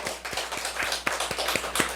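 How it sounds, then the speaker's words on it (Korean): Church congregation clapping in praise during a New Year's Eve service, a quick, fairly regular run of distinct hand claps with a faint murmur behind them. "주님께 영광의 박수 올려드리겠습니다"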